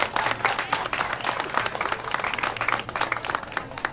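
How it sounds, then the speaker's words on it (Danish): An audience at a debate on organised crime against shops claps for the police, a dense, steady round of applause from a sizeable crowd that lasts throughout and stands on its own. "jeg vil gerne bede jer om alle sammen at give vores politifolk en klapsalve"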